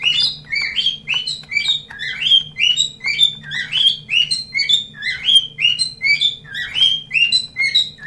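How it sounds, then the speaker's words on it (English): Small bird chirping and squawking in a rapid, repeated series of sharp, high calls, fairly close and steady throughout, over a low background hum. "goddamn bird"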